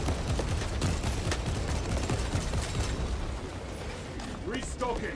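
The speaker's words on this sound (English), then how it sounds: "Covering fire." Dense, continuous gunfire and battle noise from the video game Warhammer 40,000: Space Marine II, with rapid overlapping shots running loud and steady throughout while a voice talks over the action.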